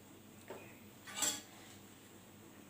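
A metal lid clinks softly onto a cooking pot on a gas stove, with a faint tap followed by a brighter clatter, then quiet.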